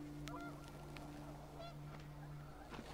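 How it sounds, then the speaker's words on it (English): Panicked geese in the video game What Remains of Edith Finch, several quick honks over a steady windy hum, moderately distant and layered in a faint game soundscape. "The wind picked up, and panicked geese appeared and quickly went."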